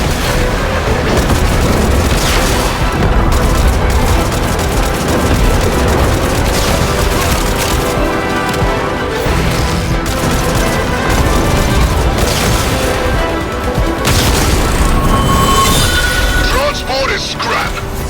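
A weapons transport in the Warframe video game blows apart amid repeated booming blasts, crashing debris and mechanical clatter, loud and dense throughout, with in-game voices speaking over the action.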